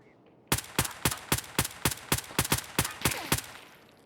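Rapid burst of about twelve sharp in-game gunshots fired in steady succession, loud and close, with no talk over them, ending in a short fading tail.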